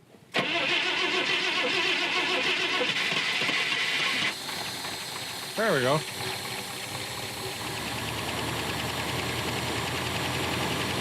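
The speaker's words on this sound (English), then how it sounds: "We're gonna see if we can get this thing fired up and idling here." A tired project car is cranked and fires up after a primed start, settling into a steady, loud idle with some valve train noise; a voice speaks briefly over the running engine.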